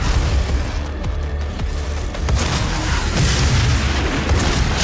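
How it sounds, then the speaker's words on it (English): Regular shotgun blasts in the first-person shooter Doom amid a dense, loud wall of booming combat noise, with repeated heavy reports over continuous rumbling action. "Regular shotgun will do."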